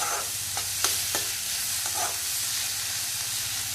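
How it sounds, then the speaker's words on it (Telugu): Bottle gourd sizzles steadily as it fries in a pan for a sweet, with a few sharp scraping strokes of a stirring spoon over a continuous hiss and no voices. "ఫస్ట్ కొంచెము హై ఫ్లేమ్లో పెట్టి మంచిగా వేగనివ్వండి"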